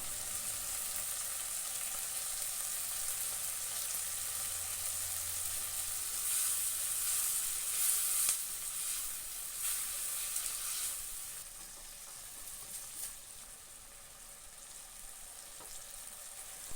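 Spices and chilli powder sautéing in a pan for egg bhuna curry give a steady, close hiss with faint scraping, the sizzle easing somewhat in the last seconds, no talk.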